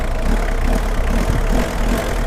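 A Mitsubishi L200 2.5 turbo diesel pickup engine idles steadily with a low, even rumble, no voices over it.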